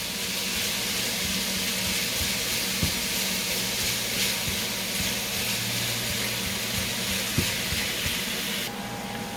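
Steady sizzle and hiss of a budget Italian skillet meal cooking on the stove, a continuous broadband frying wash with a few soft clinks, loud and close throughout.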